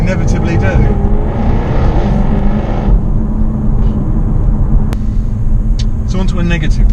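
A Jaguar F-Type R engine and exhaust in loud mode give a deep, heavy rumbling drone throughout, steady and close, with a person talking over it at the start and end.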